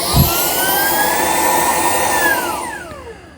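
A Shark PowerDetect IA3241 cordless vacuum runs close by with a steady, loud whirring roar and a high motor whine, then spins down and fades over the last second.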